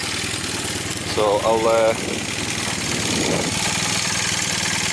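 A Honda CB400 motorcycle being recommissioned, its engine idling after a fresh 2.5-litre oil top-up, with a steady, even rumble throughout and a voice talking briefly over it.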